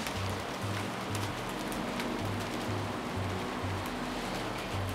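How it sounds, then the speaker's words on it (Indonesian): Sudden heavy rain pours down as a dense, steady hiss of drops on surfaces, fairly loud and constant, with a faint repeating low hum beneath and no clear talking. "Langsung kenceng hujannya."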